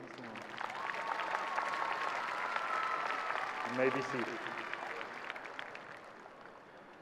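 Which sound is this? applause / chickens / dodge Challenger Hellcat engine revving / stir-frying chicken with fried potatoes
applause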